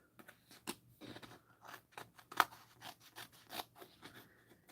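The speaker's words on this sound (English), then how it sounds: "I'm just going to fussy cut this" Scissors fussy-cut around a paper sketch, giving a close, quiet series of irregular snips and crisp crunching cuts with short pauses between them.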